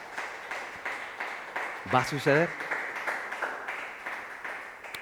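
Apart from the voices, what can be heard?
congregation applauding in church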